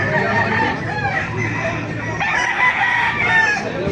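Roosters crow and chickens cluck at a crowded chicken market in Baliuag, Bulacan, several birds calling over one another against a steady busy background, with people talking nearby.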